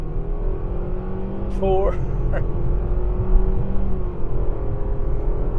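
A 2022 Mitsubishi Outlander three-row crossover accelerates up a highway on-ramp, its engine holding a strained steady drone and road roar from inside the cabin, with a brief spoken word early on.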